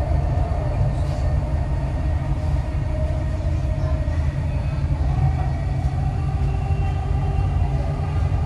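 Steady, loud rumble and drone of a Dubai Metro train running on the line toward UAE Exchange, a continuous low roar heard from inside the carriage with faint high whines.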